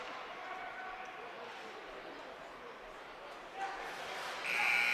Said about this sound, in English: As the buzzer sounds in the period.